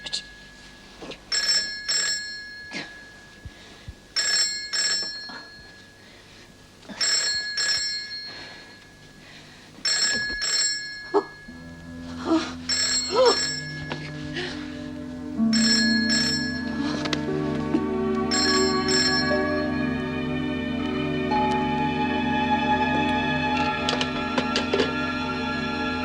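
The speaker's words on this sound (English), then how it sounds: "Gwen, can't you hear the phone?" A telephone rings in repeated double bursts with regular pauses, loud and near. A low hum and music come in partway through and continue under the later rings.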